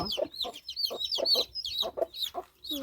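A hen clucks close by in a run of short, repeated calls, with several chicks peeping busily around her; no one talks.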